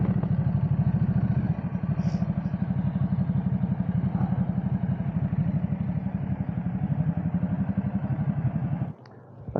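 Ducati motorcycles from a 2025 road show ride past around corners, a steady loud engine drone holding for about nine seconds before dropping off abruptly near the end.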